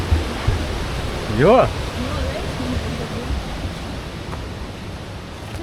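Steady rushing water on a Madeira hiking trail, where the path crosses a flowing stream, fills the background continuously, with a brief voice breaking in near the middle.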